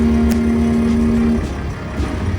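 A Ford Maverick Hybrid, hooked up for flat towing with a Roadmaster setup, rolls forward with a low steady motor hum and a brief whine that fades as it moves off.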